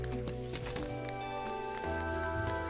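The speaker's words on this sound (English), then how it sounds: "Rain!" Rain patters steadily in the video game Dinkum, a continuous soft wash of drops mixed with the game's tonal background music.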